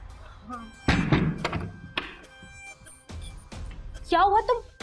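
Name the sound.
door being shut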